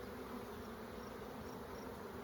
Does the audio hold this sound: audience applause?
no